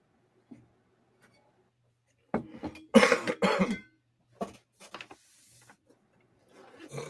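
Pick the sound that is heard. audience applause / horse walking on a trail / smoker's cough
smoker's cough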